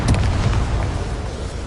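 Confringo fire spell bursting in the game Hogwarts Legacy, a loud, heavy blast with a deep booming rumble that starts with a quick crackle and then rolls on as sustained low roaring noise.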